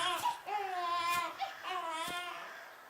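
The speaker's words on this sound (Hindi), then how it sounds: "तभी राजेश को जंगल के अंदर से किसी बच्चे की रोने की आवाज आती है।" An infant wails in a forest for a story sound effect, two drawn-out crying bursts with wavering pitch and a brief catch between them, fairly close and alone.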